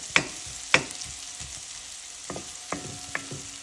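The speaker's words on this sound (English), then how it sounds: "So I sauteed it until the onion gets translucent." Onion sautéing in a pan gives a soft continuous sizzle, broken by several sharp clinks and scrapes from stirring spread across a few seconds, with no talking.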